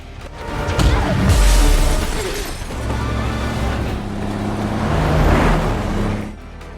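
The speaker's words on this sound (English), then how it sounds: "the mountain bike was flung towards the car's window and shattered it" A mountain bike smashes into a car window in a film scene, a loud crash and shatter near the start followed by sustained vehicle rumble and scattered debris noise.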